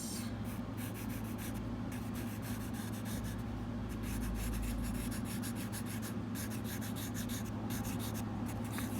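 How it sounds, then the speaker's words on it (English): A yellow marker moves across paper in continuous close scratchy strokes, soft and steady over a low background hum, with no speech. "I'm going to take some yellow, also marker, and I'm going to draw"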